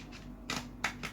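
A deck of playing cards is shuffled, giving a few quick, faint riffling bursts in a quiet room.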